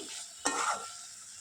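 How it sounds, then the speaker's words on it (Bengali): A ridge gourd, potato and poppy seed curry cooks in a pan: a single brief scrape of stirring, then a soft, close sizzle and simmer that fades back to quiet. "সুন্দর ফুটছে দেখো"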